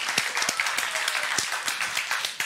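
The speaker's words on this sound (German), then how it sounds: "Wir machen kurz einen Applaus, ob ihr noch alle da seid, ja?" Audience applause at a youth hackathon's closing presentation in Rhein-Neckar: a steady wash of many hands clapping throughout, fairly loud and continuous, with a few sharper individual claps standing out.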